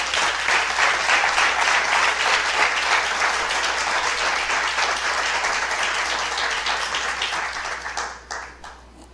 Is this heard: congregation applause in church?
yes